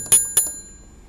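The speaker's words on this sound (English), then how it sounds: "mute the bell" Two sharp metallic bell rings from the bell of a 1920s Monroe model K mechanical calculator, close and bright, each strike ringing briefly before fading into quiet.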